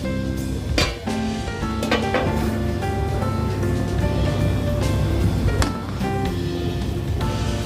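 A lid clanks down onto a cooking pot of rice boiling in water, giving sharp metallic clinks and clatters over a steady bubbling, rushing background.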